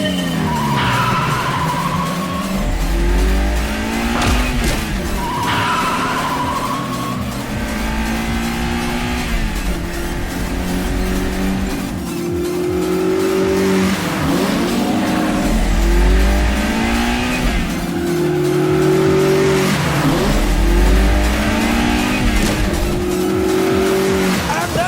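Race cars in the video game track Autumn Ring Mini, with loud engines revving and shifting through repeated rising and falling whines, tires squealing through corners, and a steady roar that continues throughout.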